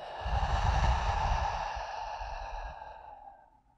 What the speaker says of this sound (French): Et on expire en vide.